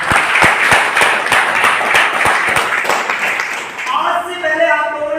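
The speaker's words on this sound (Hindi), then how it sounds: "बताऊंगा इसके लिए जोरदार तालियां।" Loud, rhythmic audience clapping at a Safe Shop business presentation in India, sharp hand claps in a steady beat that fade as a voice takes over near the end.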